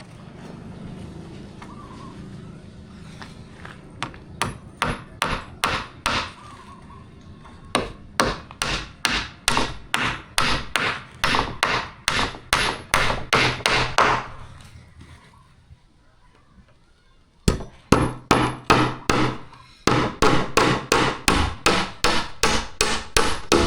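Rapid hammer blows strike nails into wood in quick repeated bursts, loud and close, with short pauses between runs.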